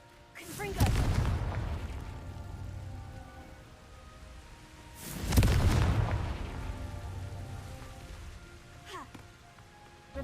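Confringo fire spell explosions in the Hogwarts Legacy video game: two heavy booming blasts a few seconds apart, each with a crackling, rumbling tail and a lighter crackle near the end.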